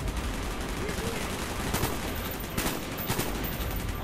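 Call of Duty: Black Ops (2010) gameplay brings dense bursts of rapid gunfire and scattered single shots over a steady background din, loud and continuous throughout, with faint voices in the mix.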